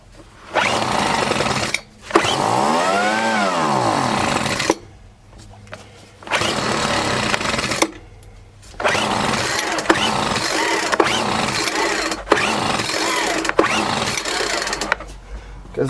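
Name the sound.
Craftsman 4-stroke weed eater engine being cranked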